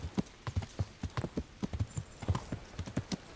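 Horse hooves clatter at a gallop during a race in the Kingdom Come Deliverance video game, a fast, regular run of sharp, close clip-clop beats with no talk over them.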